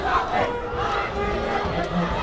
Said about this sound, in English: Final 2 minutes, crowd just buzzing still.